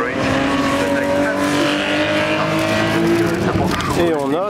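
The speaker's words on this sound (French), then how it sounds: "il y a des voitures qui passent et qui font du bruit" Race cars at a Porsche Classic race roar past at close range in a sustained loud engine drone with shifting pitch, while people talk nearby amid the crowd.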